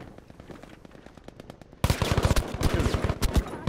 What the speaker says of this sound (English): I'm being shot through a wall.